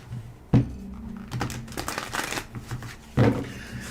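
Tarot cards are shuffled up close during a reading, with two sharp riffling bursts separated by softer papery rustling and handling of the deck.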